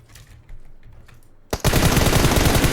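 PUBG Mobile gunfire: faint scattered shots and clicks at first, then a sudden loud burst of rapid automatic fire that continues as a dense, close volley.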